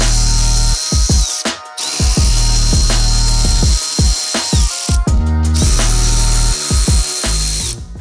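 Bursts of a power tool driving a T25 bit to back out the valve cover bolts on a Mercedes M156 engine, several short whirring runs with ratcheting clicks, close and loud, with brief pauses between.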